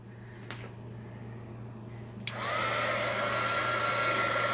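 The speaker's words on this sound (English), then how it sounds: "Heat gun alert." A heat gun switches on partway through to dry a wet art journal page, its steady whooshing blower hum starting suddenly and holding close and loud after a brief quiet stretch with a few small clicks.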